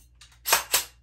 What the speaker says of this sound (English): it locked back on an empty mag